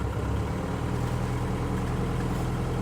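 Diesel engine of an armoured fighting vehicle running at idle with revs slightly raised, a steady deep rumbling drone with a low throbbing pulse, close and continuous without talk.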